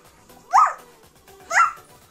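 A young child imitates a dog barking, giving two short, sharp woof sounds about a second apart, close and clear with quiet in between.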